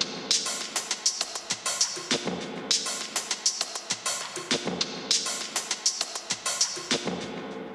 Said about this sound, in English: Next up, we have this drum sample,